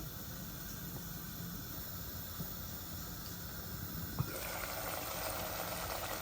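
Water poured into a pan of cooking tilapia and radish curry makes a steady close hiss and gush, with a small clink partway through before the pouring sound thickens.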